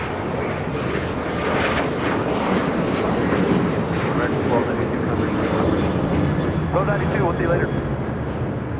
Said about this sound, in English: This is American Airlines 1292 taking off to Nashville, Tennessee on a 737-800.